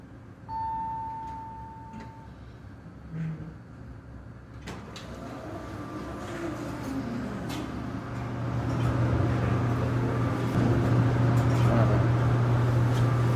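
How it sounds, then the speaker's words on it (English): A short one-floor ride in a Dover hydraulic elevator: a door slides and clicks, then a low pump hum builds and holds steady and fairly loud to the end. "Short trip up one floor in a hydraulic dover."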